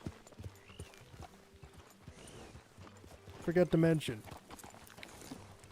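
Horse hooves clip-clop in a roleplay video game, a steady walking patter under ongoing conversation, with a brief louder burst midway.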